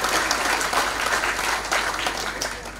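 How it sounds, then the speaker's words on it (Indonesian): Audience at a university graduation ceremony applauds their parents, a dense, steady roar of many hands clapping together without a break, close and loud throughout. "Tepuk tangan buat orang tua masing-masing."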